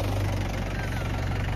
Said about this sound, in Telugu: వెనకాల ట్రాక్టర్ వస్తుంది, అదే సౌండ్ వినబడుతుంది.